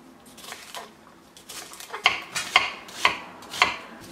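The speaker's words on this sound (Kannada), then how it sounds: "ಮೊದಲು ಈ ತರಕಾರಿಗಳನ್ನು ಹೆಚ್ಚಿಕೊಂಡು ಬಿಡೋಣ." A kitchen knife chops onion, carrot and chayote on a cutting board, giving a series of crisp, close taps that start soft and irregular and then settle into sharper, evenly spaced strikes.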